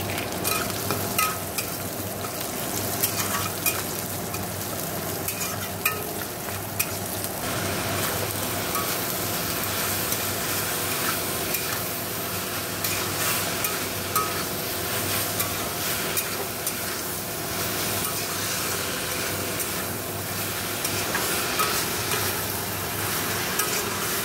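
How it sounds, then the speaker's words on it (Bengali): Red amaranth greens fry in a pan with a continuous broad sizzle and frequent faint scraping stirs throughout, steady and close. "দেখো এই যে লাল শাক ভাজাটা আমার হয়ে গেছে"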